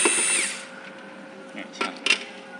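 A loud power screwdriver whirs as it backs out two fastening screws on a device's top cover, then dies away. Scattered clicks and light knocks of handling follow.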